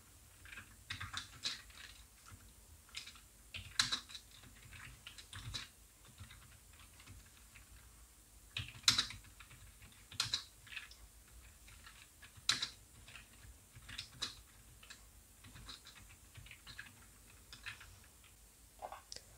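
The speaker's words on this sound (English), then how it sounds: "the beautiful sound of the keyboard typing onto laptop" Someone types on a GXT 830 RW Avonn keyboard: irregular bursts of clicky keystrokes with occasional louder single presses, close and alone, no talking.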